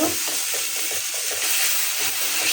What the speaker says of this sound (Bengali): মরিচ থাকি হলুদ থাকি মশলাটা আমি ভালো করে কষিয়ে নেব